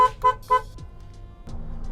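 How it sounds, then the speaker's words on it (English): Car horn honked in three short, loud blasts in quick succession, then the low hum of a running car engine with a brief rev. "I am honking the horn."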